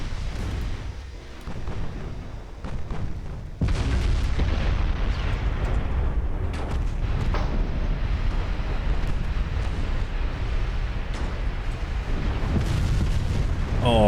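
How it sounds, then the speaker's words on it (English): The battleship Vermont lets off a close-range broadside in a naval video game, a sudden heavy boom that gives way to a sustained loud rumble of blasts and debris. "Oh yeah, close range broadside from Vermont."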